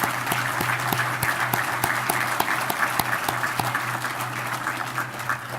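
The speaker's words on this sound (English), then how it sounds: "Please join me in giving these outstanding volunteers a big round of applause." A banquet audience at an annual installation and awards dinner gives a sustained round of applause for volunteers, with dense, steady clapping that holds at an even level throughout.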